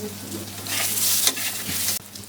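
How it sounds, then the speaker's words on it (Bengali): Prawns fry in hot oil with turmeric and salt, making a loud, close sizzle with stirring scrapes that swell mid-way and a sharp knock near the end. "চিংড়ি মাছগুলো ভেজে নেব হলুদ আর লবণ দিয়ে ভেজে নেব"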